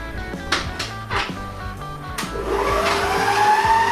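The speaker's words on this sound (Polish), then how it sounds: "Po dodaniu masła będę miksować jeszcze około 12 minut całość." An electric stand mixer kneads doughnut dough with melted butter mixed in, its motor whirring steadily with a low hum, rhythmic thuds of the dough against the bowl, and the pitch rising and strengthening toward the end.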